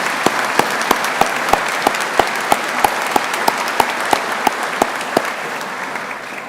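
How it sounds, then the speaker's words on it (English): Audience applause for veterans at a technical college graduation ceremony, steady clapping from a crowd in a large hall, lasting several seconds and then fading out. "Let's give our veterans a round of applause."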